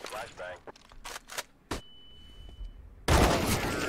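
Gunfire in a shooter video game: a few sharp isolated shots early on, then a loud dense burst at the end, with a faint tone in between.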